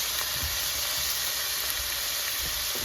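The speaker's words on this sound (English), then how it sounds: "So we're gonna let these sear" Steaks searing two at a time in a hot pan give a steady, dense sizzle and hiss that fills the whole stretch at moderate loudness, with no talking over it.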